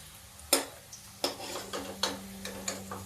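Moong dal khasta snacks fry in hot oil, with a soft steady sizzle broken by several sharp clinks and stirring taps at a loose, uneven rhythm, close and clear.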